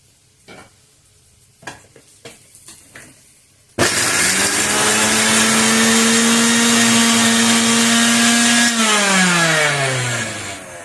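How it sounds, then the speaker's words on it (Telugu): A mixer grinder grinds garlic and jaggery, starting abruptly after a few soft kitchen taps and running as a loud, steady motor whine whose pitch drops near the end before it winds down. "వెల్లుల్లిపాయలు, కొంచెము బెల్లం కూడా గ్రైండ్ చేద్దాం."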